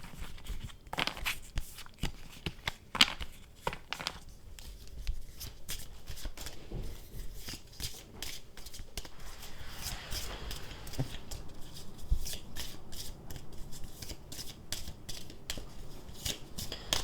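Tarot cards are shuffled and handled in steady, crisp riffling bursts with papery slaps and rustles, close and fairly quiet, running continuously with no voices.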